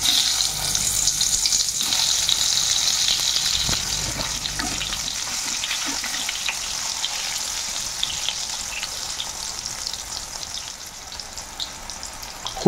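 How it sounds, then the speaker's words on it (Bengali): Pointed gourd (potol) pieces frying in hot oil, a steady loud hiss and crackle that persists throughout, with occasional soft knocks of a utensil, and no voices. "এখন আমরা এক এক করে পটলগুলোকে ভেজে নেব।"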